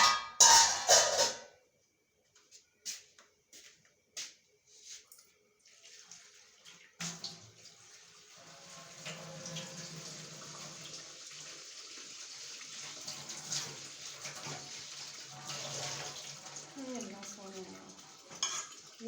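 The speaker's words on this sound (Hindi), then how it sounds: "प्याज काट के इसको धो लें।" Chopped onions rinsed under a running kitchen tap: a few clinks and clatters of dishes first, then a steady stream of water splashing with occasional soft knocks for most of the stretch.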